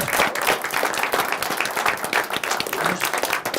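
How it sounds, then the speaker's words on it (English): An audience at a county commission meeting gives a round of applause for students, with dense, steady clapping throughout and a few voices mixed in. "So let's give a big round of applause one more time for these students who worked so hard."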